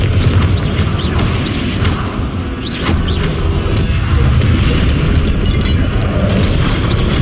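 Booming spell blasts from the Confringo curse in the Hogwarts Legacy video game, crashing over a dense, continuous roar of game effects and rumble, loud and sustained throughout with no pause.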